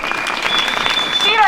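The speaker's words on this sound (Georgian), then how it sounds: "ჩვენი ხმაური დღეს იყოს ტაში." At an award ceremony for theatre people, the audience breaks into continuous dense applause, a loud wash of many hands clapping at once, with a voice rising over it near the end.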